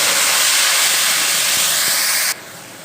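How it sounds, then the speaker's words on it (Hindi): Tomato paste hits a hot frying pan with onion, ginger and garlic already browned, giving a loud, steady steam-like hiss that holds for over two seconds and then drops abruptly to a softer sizzle. "इसमें अब डालेंगे हम टमाटर का पेस्ट।"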